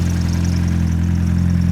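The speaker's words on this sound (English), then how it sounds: "All right, it's idling pretty high." A turbocharged Nissan 240SX engine, revived after sitting for years, idles high with a steady, loud low-pitched drone and even pulsing throb, heard close and without talk.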